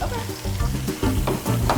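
Food flash-browning in a hot pan in a Seattle firehouse kitchen, with a splash of balsamic added, gives a steady close sizzle with brief stirring clatters throughout.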